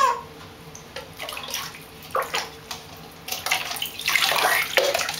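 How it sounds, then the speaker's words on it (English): Water runs and splashes as things are rinsed off under a tap, intermittent gushes that swell louder toward the end, close and without talking. "I guess just rinse them off as good as you can."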